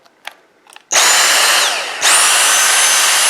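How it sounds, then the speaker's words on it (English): A Dyson V6 cordless handheld vacuum goes from a couple of soft clicks to a loud, steady, high-pitched whine, its pitch rising again as it is switched up to max mode, close and without talk. "Your neighbors will hear you 10 blocks away vacuuming."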